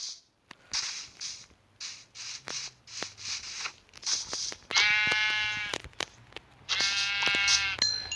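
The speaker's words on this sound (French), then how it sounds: "Ah, du mouton là. C'est parfait." Two bursts of sheep bleating from Minecraft, bright and loud over a steady backdrop of clicking and tapping, the second bleat arriving a couple of seconds after the first.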